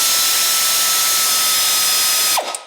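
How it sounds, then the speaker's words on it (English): An air spanner removing nuts from the transfer box end of a Land Rover prop shaft in a workshop, a loud continuous pneumatic whir that cuts off abruptly near the end, with a brief clatter after. "we're using an air spanner to remove the nuts from the transfer box end first"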